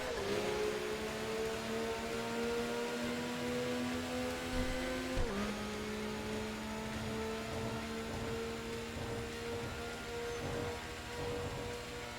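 A racing video game car engine drones steadily and loudly, its pitch climbing under acceleration and dropping abruptly once, as if shifting gear, then rising again, with broadband road and wind noise throughout.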